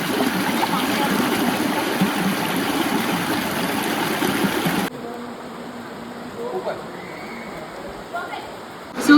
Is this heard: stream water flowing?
yes